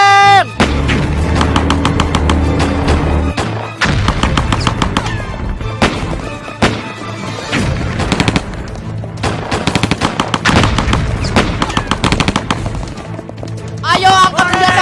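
Staged battle sound effects of tanks and gunfire in a Sunday school play: dense, loud bursts of rapid machine-gun fire and booming blasts crackle almost without pause, with a few brief gaps.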